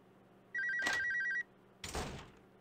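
An old-style telephone in an RPG Maker horror game rings once in a bright, clear electronic trill, followed after a pause by a short burst of noise like a door or clatter, all in a quiet room.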